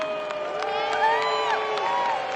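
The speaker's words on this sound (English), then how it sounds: "Give her a huge round of applause." A Monster Jam arena crowd cheers and whoops loudly for a quiz winner, a dense continuous roar of many voices with shouts rising and falling over a brief stretch.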